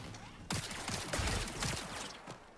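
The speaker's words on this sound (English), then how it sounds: "More gunfire." Gunfire in the sci-fi shooter Marathon: a dense, crackling fusillade of rapid shots that bursts in after a brief lull and keeps rattling loudly, with no pauses between volleys.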